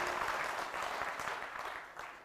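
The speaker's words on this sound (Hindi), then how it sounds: "ताली बजा दीजिए" An audience at a religious darbar gathering applauds, sustained dense clapping from a crowd that fades slightly toward the end.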